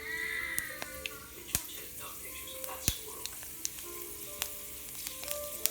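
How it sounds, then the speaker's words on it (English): Fenugreek and fennel seeds splutter in hot oil in a pan, making a close, steady sizzle dotted with sharp irregular pops and crackles throughout. "let it splutter nicely. We are spluttering. Half teaspoon of fenugreek seeds as well into that."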